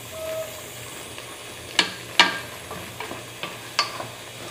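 Onion with salt and seasoning softening in a pressure cooker pan, giving a soft sizzling bubble with several sharp ticks and pops scattered over a quiet background.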